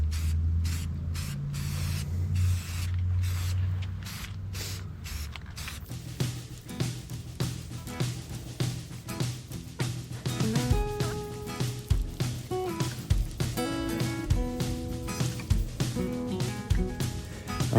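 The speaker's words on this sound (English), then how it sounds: "here we are getting them with some automotive primer before we get ready to spray paint them white" Parts for a bus build get a coat of automotive primer from a spray can. Short bursts of spraying come first, then a long continuous hiss, with faint rattling and handling noises throughout.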